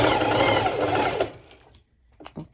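A sewing machine stitches four layers of fabric together for a cropped top with a heart cut-out, running in a loud, steady burst for over a second before stopping, followed by faint handling sounds.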